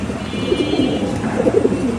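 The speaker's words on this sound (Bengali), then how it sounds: "এটা হলো আমার একটা বোল জেনারেশনের কবুতর সরি বোল জেনারেশনের কবুতরের নর এটা" A male pigeon coos in soft, repeated low phrases in a home loft holding many pigeons, steady and fairly close against a faint background hum.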